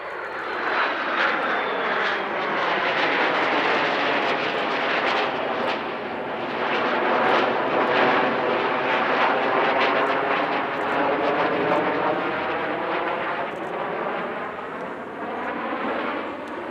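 Swiss Air Force Patrouille Suisse F-5 jets roar through an airshow display, a loud, sustained jet rumble with rising and falling sweeps as the formation passes, no voices.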